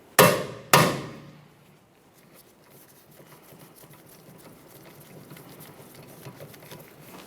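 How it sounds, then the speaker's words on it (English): A hammer strikes an impact bit driver twice to loosen a Phillips screw during rear hub work on a 2012-2015 Honda Civic, giving two loud, sharp metallic blows close by and then near quiet. "tap on this with a hammer"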